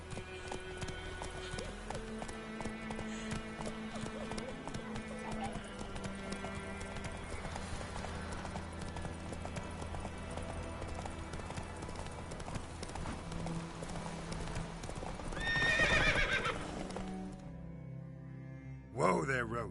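Roach, a horse in The Witcher 3, gallops with a rapid, steady clip-clop of hooves over game music, then slows near the end with a louder burst, alone without talk.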